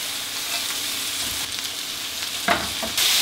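Mushrooms sizzle and crackle steadily in a hot pan for veal scallopini, with a few soft clinks and stirring sounds near the end.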